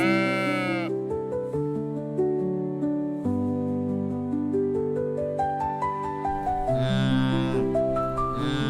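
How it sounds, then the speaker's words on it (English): Wavering bleats from lambs open and close the stretch, sounding over continuous bouncy music. "is baby sheeps"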